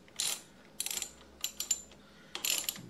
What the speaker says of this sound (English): So I've got 10-millimeter socket wrench here.